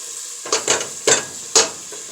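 Arroz con pollo stirred in a pot as it fries, with four distinct scraping stirs over a steady bright sizzle, close and clear with no talking.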